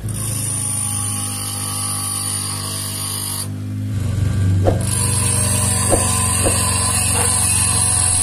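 A bench grinder runs with a steady high whine, then its pitch shifts as high-speed drill bits are pressed against the wheel, giving brief scraping contacts; close and loud with no speech.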